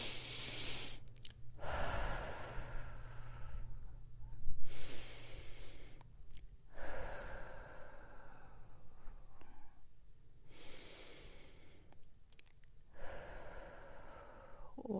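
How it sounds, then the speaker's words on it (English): Slow, deep breaths are taken during a guided heart-chakra meditation. Several long inhales and exhales follow one another at an unhurried pace, close and fairly soft, with no talking. "Take 3 deep breaths."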